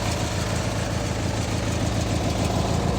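A cold replacement engine on a Craftsman YT3000 lawn tractor idles steadily with a low, throbbing rumble and constant vibration, close by and loud, with no voices.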